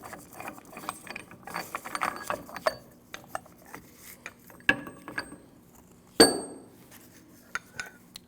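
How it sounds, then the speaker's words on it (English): Old front wheel bearing being pressed out of a 2012-2016 Honda CR-V steering knuckle, heard as scattered metallic ratcheting clicks and creaks and ending in a sharp clank as it breaks free, close by and without speech. "Now let's press that bearing out."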